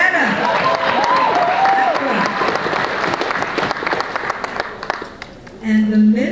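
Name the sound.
audience applause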